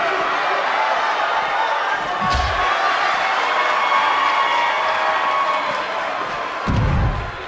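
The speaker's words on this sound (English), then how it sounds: "We have a sold-out, record-setting crowd here for BCW tonight" A crowd in a wrestling arena in WWE 2K19 cheers and roars as a continuous wash of noise, with a couple of heavy thuds or slams standing out, moderately loud throughout.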